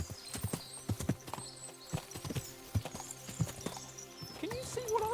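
Horses' hooves clip-clop repeatedly in the video game Kingdom Come Deliverance II, a steady uneven rhythm of many hoofbeats at close range, with a whinny rising near the end and a voice speaking over it.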